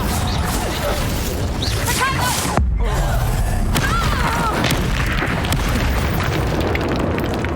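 Fire spells cast during combat in the video game Hogwarts Legacy, heard as dense, loud booming blasts and crackling bursts that run almost continuously, with one sharp heavy impact partway through and a busy battle din underneath.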